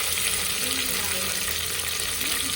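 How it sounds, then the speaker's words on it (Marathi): Coriander crackling in hot oil for a quick hotel-style chole, a dense continuous sizzle with faint watery hiss beneath, steady and close. "आता तेल गरम असताना त्याच्यामध्ये कोथिंबीर आपल्याला टाकायची आहे चांगलं त्याला चरका लागू द्या"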